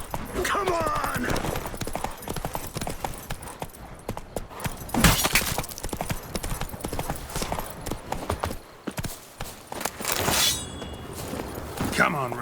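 Roach, the horse in The Witcher 3, gallops in a fast, steady clip-clop of hooves that runs throughout, close and prominent, with a brief whinny, some sharp impacts and spoken voices over it.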